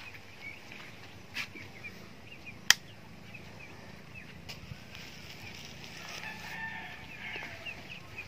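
Broiler and native chickens in a coop give faint, scattered clucks and chirps over a low background hum, with a sharp click near the middle and soft rustling, fairly distant and quiet.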